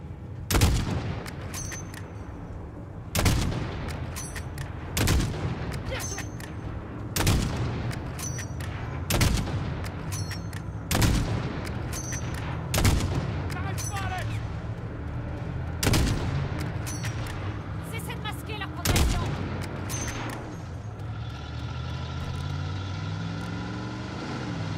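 Loud gunshots crack out repeatedly at tyres in Call of Duty Modern Warfare, a dozen or so sharp bursts spaced a second or two apart over a rumbling vehicle engine, with no talk.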